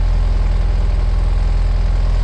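A cheap used wheel loader's diesel engine runs loud and close with a steady, throbbing pulse, holding a raised rev level without settling back down, no voices over it.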